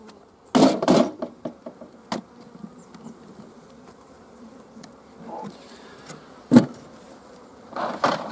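Honeybees buzz around an open hive with a steady, low drone, broken by several sharp wooden knocks and thumps from hive frames being handled close by.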